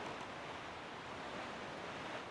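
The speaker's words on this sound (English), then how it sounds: "you can still hear the creaks of the boats, and you can still hear the wind and the walking waves" Steady broadband ocean ambience from a video game's night sea, with soft, constant wind and surf washing evenly throughout; no distinct creaks of the boats stand out.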